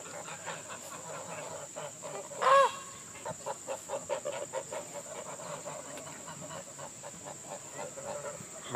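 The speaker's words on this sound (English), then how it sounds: "look at all the duckies" Barnyard fowl at a state park preserve give a short run of clucking and quacking calls, one louder squawk followed by a rapid string of softer calls over a steady high hiss of outdoor ambience.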